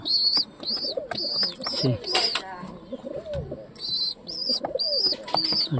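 Pigeon squabs calling for food at close range, with repeated high-pitched squeaky cries in quick bursts over soft cooing and rustling, fairly loud throughout.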